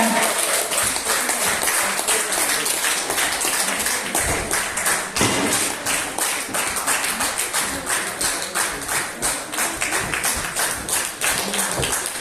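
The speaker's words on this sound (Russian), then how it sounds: "Аплодисменты, пожалуйста!" Audience at a village concert and award ceremony closing the season in Buzovyazy, with sustained applause and many hands clapping for over ten seconds, steady and fairly loud.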